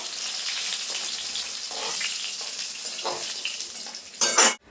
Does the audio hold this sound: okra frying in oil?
yes